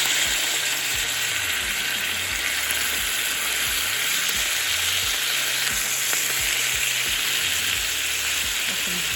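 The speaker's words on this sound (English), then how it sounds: "we're going to sear our chicken really good, 4 to 5 minutes on each side" Chicken pieces searing in a hot pan for chicken marsala give off a loud, continuous, dense sizzle with fine crackling. It holds steady throughout and no one speaks.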